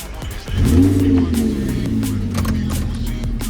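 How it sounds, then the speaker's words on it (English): An Audi R8 V10 engine cranks and fires up with a loud rev, then settles into a deep, steady idle rumble close by. "Audi R8 V10 gated manual transmission. Let's give it a start up."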